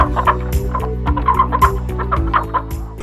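Farm guinea fowl call loudly and repeatedly in rapid clucking, chattering bursts, close by and continuous.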